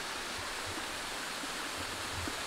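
Broadband rushing of water with snow around, heard as a continuous hiss close to the microphone with faint low thumps, recorded outdoors while flying Spark and Mavic Pro drones.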